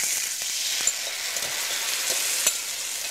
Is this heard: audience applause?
no